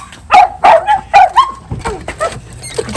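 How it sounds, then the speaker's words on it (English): Several dogs barking in quick, sharp, close bursts with some yips, heard on arrival at a house. "it'll be the dogs barking at me"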